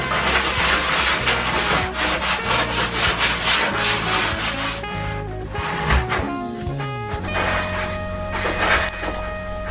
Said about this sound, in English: I'm just sand this down.